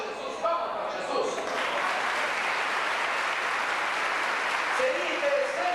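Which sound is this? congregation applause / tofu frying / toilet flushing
congregation applause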